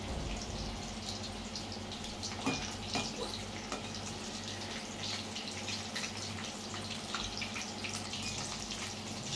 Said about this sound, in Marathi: आपण अशा रीतीने ही फिश फ्राय करतोय